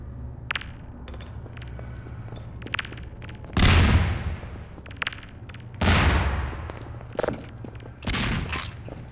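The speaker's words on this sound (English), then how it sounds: "More grenades. Even more grenades." Grenades exploding in Half-Life 2 VR, three loud separate blasts a couple of seconds apart, each with a rumbling tail, between sharp clicks and small impacts.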